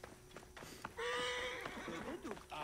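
A horse in the video game Assassin's Creed Origins whinnies loudly and close by, a long quavering neigh that follows a few quiet hoof and shuffling sounds.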